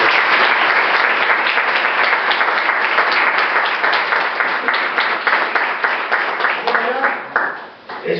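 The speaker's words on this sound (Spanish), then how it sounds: "un aplauso, por favor, para ellos" An audience at a book presentation on cinema curses applauds in a sustained, dense burst of clapping that thins out near the end, with a voice beginning to speak over the tail.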